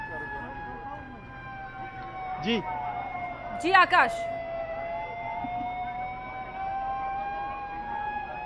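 Sirens wail steadily at a fire at an electricity department office in Raipur, a continuous rising and falling tone under a voice on a live news report.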